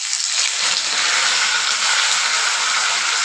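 Green chilies and curry leaves frying in hot oil for pepper rasam, a steady dense sizzle with crackling texture that holds at an even level throughout, close by with no talking.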